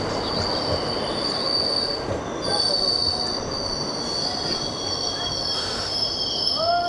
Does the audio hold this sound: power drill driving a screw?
no